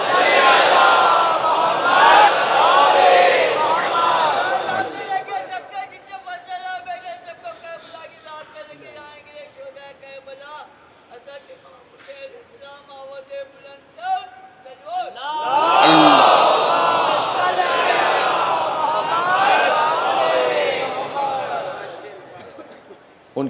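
A large religious gathering chants salawat loudly in unison after a slogan, a roaring massed voice at the start, a quieter melodic stretch in the middle, then a second loud surge of the crowd.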